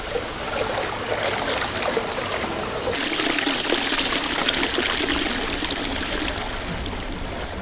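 Steady hot spring water trickling and splashing continuously, close by, with a slight shift in texture partway through and no voices.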